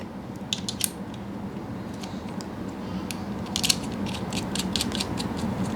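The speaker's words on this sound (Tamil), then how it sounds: "ஸோ இதில் ஸ்க்ரூ பண்ணணும்." Clamp mount being screwed onto a GoPro Hero 10 action camera, giving a run of light ratcheting clicks and creaks that come close up, set against a steady background hum.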